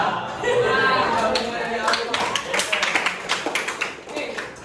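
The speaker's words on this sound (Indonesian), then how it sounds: "tepuk tangan buat kalian" Students in a classroom clap their hands together, a burst of many sharp claps that thins out into scattered taps, heard under a teacher's voice.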